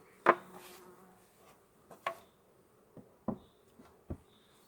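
Bees at a beehive, with faint intermittent buzzing passing near and away between soft knocks and pauses.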